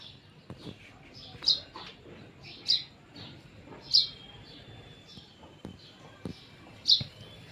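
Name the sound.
house sparrows chirping while building a nest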